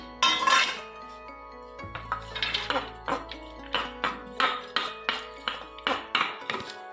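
Chopped onion scraped and tipped from a board onto a plate while making Maggi pakoda, giving a run of light, evenly spaced clinks and taps of utensil against dishware, close and clear with no talk.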